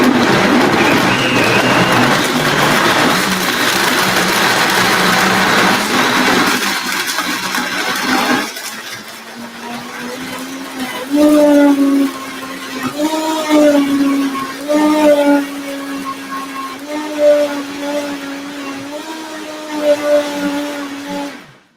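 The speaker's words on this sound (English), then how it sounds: "I'm just going to blend this up in my Vitamix blender here." A Vitamix blender blending raw vegan ingredients, a loud high whirring roar for several seconds that then cuts off, followed by a quieter stretch where a voice talks.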